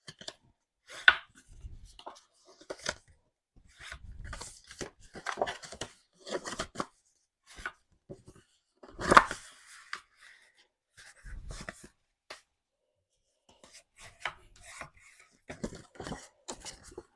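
Paper pieces being folded and creased with a bone folder during a crafting session: scattered soft scrapes, rubs and crisp taps arriving in irregular clusters with quiet gaps between.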